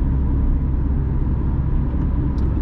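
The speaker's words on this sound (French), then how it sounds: "Mais c'est vrai qu'on entend un petit peu le moteur." From inside a 2003 Chrysler PT Cruiser Phase 1 Classic with the 2L 140 hp petrol engine, a steady low engine and road drone fills the cabin without pause.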